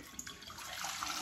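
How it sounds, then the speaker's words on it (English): Milk poured into a saucepan while being heated to make homemade plant-based yogurt, a soft steady liquid stream that builds slightly over a short moment, fairly quiet and close. "You pour your milk"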